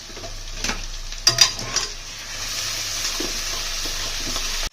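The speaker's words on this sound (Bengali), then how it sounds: "আমরা মশলাটা কষে নেবো।" Spice paste with cumin, turmeric and Kashmiri chilli powder fries in a pan for matar paneer, a continuous hissing sizzle broken by a few close clinks and scrapes of a spatula stirring.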